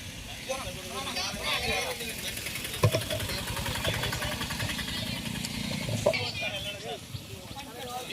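A motorcycle engine idles and revs nearby at a school students' rally, a steady rumble under crowd chatter and people talking.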